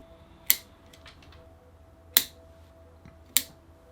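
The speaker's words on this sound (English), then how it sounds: "Cut back to leave 2 buds. I need to sharpen my shears" Pruning shears snipping elm bonsai shoots, three crisp close cuts spaced about a second apart over a quiet background, with no voices.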